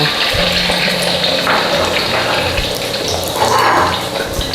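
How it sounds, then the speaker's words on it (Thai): Loud, continuous sizzling and spattering of an egg frying in a hot stainless steel pan, a dense crackling hiss held steady throughout. "นี่ทอดไข่ดาว"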